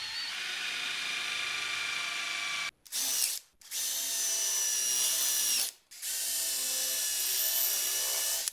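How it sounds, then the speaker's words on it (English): Power drill boring through the car body sheet metal of a Mercedes W123 around a rusty windscreen frame for plug welds: a loud, high whining drone in long bursts, cut by two brief pauses where the drill stops. "I can drill through it to attach it to the inner lip with my favourite welds, plug welds"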